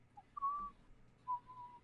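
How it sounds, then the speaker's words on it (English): Someone whistles two short sustained notes with a brief gap between them, quiet and close against a faint room background. "Who's whistling?"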